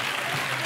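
Audience applause on a French television magic show, a steady wash of clapping that fills the short moment at moderate loudness, with no one speaking over it.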